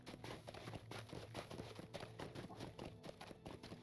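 Horse hooves clip-clop in a steady, rapid rhythm while riding in the game Lord of the Rings Online, in the snowy Forochel region, close and continuous for a few seconds with no talk.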